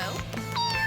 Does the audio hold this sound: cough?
no